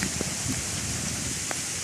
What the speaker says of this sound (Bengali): বৃষ্টি হচ্ছে বাতাস হচ্ছে